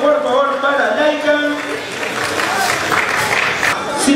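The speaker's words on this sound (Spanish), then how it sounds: "Un aplauso por favor para Laika." An audience at a robotics competition applauds a line-following robot after its timed run, with clapping and crowd noise mixed under a loud announcer's voice.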